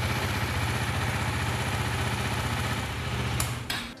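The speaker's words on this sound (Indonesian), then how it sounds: "gue akan coba untuk dengerin nih suara mesinnya apakah masih sehat" A used 2017 motorcycle idles close by, its engine giving a steady rhythmic low thrum at constant pitch, with a couple of sharp clicks near the end as the sound tapers off.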